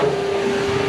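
A vacuum cleaner hoovers up in an office room, giving a steady, close whirring hum with a single sustained tone and broad hiss throughout the short stretch.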